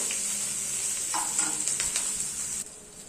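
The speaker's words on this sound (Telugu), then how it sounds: "పచ్చిమిరపకాయలు ఫ్రై అయిపోయినాయండి." Long green chilies fry and sizzle in a pan alongside tomato pieces, a bright continuous sizzle joined by a few scraping stirs of the spoon before the hiss suddenly drops away near the end.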